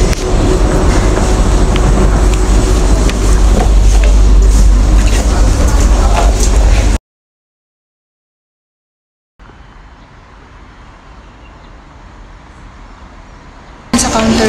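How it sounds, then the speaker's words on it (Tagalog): MRT train at a Singapore station, a loud steady rumble of a train moving along the platform for several seconds, then a cut to quieter station ambience with a low hum before the noise swells again. "Meron na dun sa kabila, may train na."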